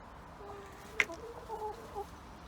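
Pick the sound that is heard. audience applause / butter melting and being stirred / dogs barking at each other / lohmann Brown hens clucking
lohmann Brown hens clucking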